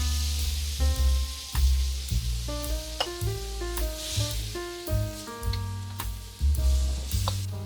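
Water hitting a hot wok during a stir-fry of noodles with pineapple, bitter gourd and pork jowl sets off sizzling and frying, heard close over a steady tonal music bed with rhythmic pulses.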